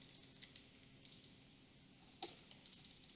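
Quiet typing on a computer keyboard during a programming lesson, light irregular clicks in short bursts with a pause in the middle, then a slightly louder cluster of keystrokes, close and faint.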